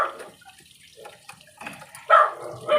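Water draining out of a Haier 9 kg automatic washing machine with a cut cable, splashing and gurgling in uneven bursts, loudest near the end.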